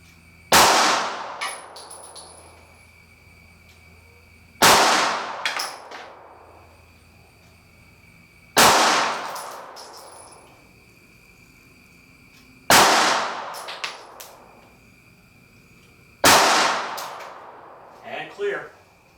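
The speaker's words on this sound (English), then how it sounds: "5 more shots, 10 feet." Five sharp gunshots from a 9mm pistol loaded with Syntech Defense hollow points, fired at a 10-foot target, spaced about four seconds apart. Each is a loud close crack with a short ringing tail and faint clatter afterward.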